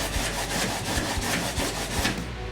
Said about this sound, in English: take your sandpaper on your sanding block, and you're just literally going to rough the edge